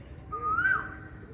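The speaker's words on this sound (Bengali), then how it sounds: "কোকিল ডাকছে।" Asian koel calling beside a lake among trees, a single rising whistled note that swells then fades, moderately clear over a low outdoor rumble.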